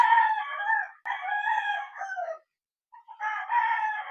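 A broad stag gamefowl rooster crows close and loud twice, with a short pause between the calls. No one speaks.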